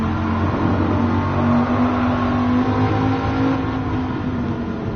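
A stock car engine in Gran Turismo Sport holds steady high revs against the rev limiter, a loud continuous droning buzz with a slight stutter, close and alone.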